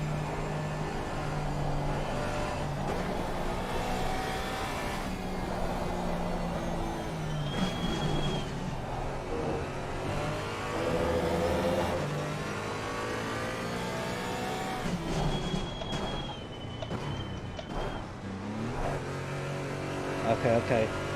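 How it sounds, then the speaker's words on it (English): Race car engines in Assetto Corsa Competizione during a multi-class race at Snetterton. A steady, loud engine drone shifts pitch through gear changes, with a faster car closing in from behind, and a voice talks over the noise. "Faster car coming up behind you."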